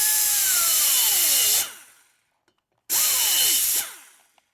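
A drill enlarging a hole in a 2017 Milwaukee-Eight motorcycle cylinder head, two loud close bursts of whining drilling with falling pitch, separated by about a second of near silence.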